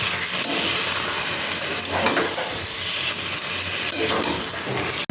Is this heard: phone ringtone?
no